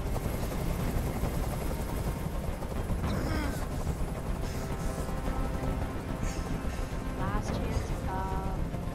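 Loud, constant chopping rotor drone of a hovering helicopter in the game Detroit: Become Human, with bursts of gunfire and voices breaking through over it.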